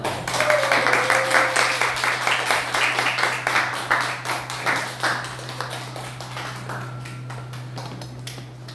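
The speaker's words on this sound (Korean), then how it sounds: "나왔을 때 큰 박수로 환영합니다" Sustained applause from a church congregation at a Sunday worship service, welcoming singers as they come forward; dense, steady clapping fills the room for several seconds, then thins and fades toward the end over a constant low hum.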